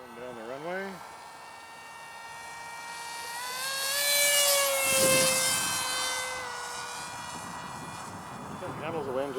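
A scratch-built 1/32-scale SR-71 pusher jet model takes off down a runway, its whining engine climbing in pitch and swelling louder before easing, with people talking nearby.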